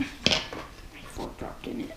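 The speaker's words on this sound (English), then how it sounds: "Fork dropped in it." A metal fork drops into a mixing bowl of biscotti dough with one sharp, bright clink near the start, followed by a speaking voice and soft handling noises.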